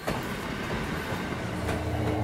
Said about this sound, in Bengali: ট্রেনটা ঝমঝম শব্দ করতে করতে চলে গেল